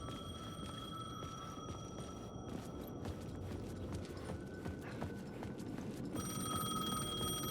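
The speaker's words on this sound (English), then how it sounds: "The payphone was ringing." A payphone rings in Alan Wake II, with a steady electronic tone that repeats, breaks off partway through and starts again, over a low, busy ambient rumble.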